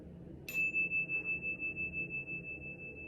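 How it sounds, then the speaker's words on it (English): A mindfulness chime is struck once, giving a bright metallic strike that settles into a single pure, steady tone which rings on with a long, slowly fading sustain, alone in a quiet room. "you can hear the sound extends for a really long time"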